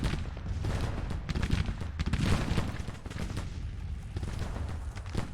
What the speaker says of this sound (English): Artillery is coming down.